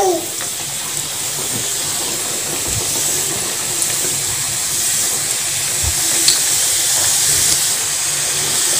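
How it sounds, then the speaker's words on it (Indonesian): Sweet batter dropped into hot oil, giving a steady close sizzling hiss of frying that carries on evenly, with a few faint knocks. "Kita coba goreng ya. Pastikan minyaknya sudah panas."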